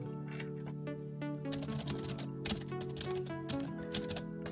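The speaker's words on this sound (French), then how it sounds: "Je viens de vous faire entendre le clavier Perkins, donc un très beau clavier Perkins ici." Typing on the Perkins-style braille keyboard of a BrailleNote Touch Android tablet: quick, close, clicky key presses in a steady patter over a constant hum, no voices.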